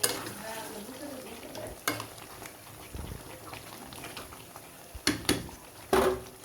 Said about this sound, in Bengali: এর পর্যায়ে আমি ভালো করে নেড়ে চেড়ে দিব।